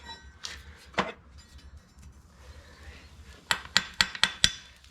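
A farrier's hammer taps horseshoe nail clinches into the hoof of a 17.1-hand Dutch Warmblood eventing horse, with one sharp metallic tap early and then a quick run of five ringing taps close by.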